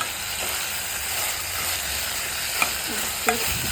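Tomatoes and peanuts cook in a pan with a steady, close sizzle and soft stirring, a couple of brief clinks standing out near the end.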